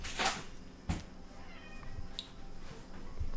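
A domestic cat meows a few times indoors in short separate calls, with soft household knocks between them and no talking.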